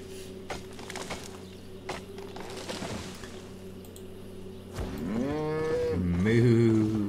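In the video game Albion Online, scattered keyboard taps and clicks come first, then cattle let out a loud, drawn-out moo, followed by a second, stronger lowing call near the end.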